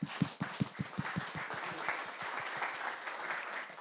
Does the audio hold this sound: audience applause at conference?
yes